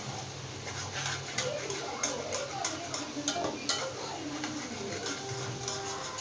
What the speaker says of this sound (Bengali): ভালো করে তেল ঝরিয়ে আলু ভাজাটা তুলে নেব।